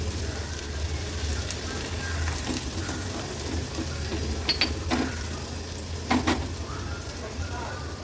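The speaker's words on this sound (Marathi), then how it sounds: "बारीक चिरलेला हा कांदा आहे छोट्या साईजचाच कांदा घेतला आहे तो तेलावर परतून घ्यायचा आहे" Finely chopped small onion sautéing in oil makes a gentle, steady sizzle with a few brief clinks of a utensil against the pan. The sound is moderately close and sits beneath faint background noise.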